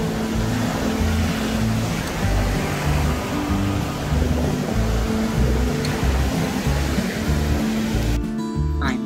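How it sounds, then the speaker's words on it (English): Ocean surf at a beach rolls in a steady, loud wash of breaking waves, continuous throughout with no voices. "And now the ocean."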